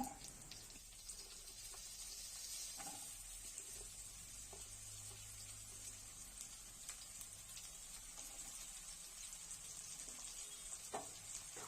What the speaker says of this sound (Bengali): তেলটা গরম হলে উচ্ছেগুলোকে তেলের মধ্যে ছেড়ে দিচ্ছি